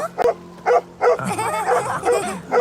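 A dog barks and yips in a series of short, close bursts, with a whimpering edge between them over a low background hum.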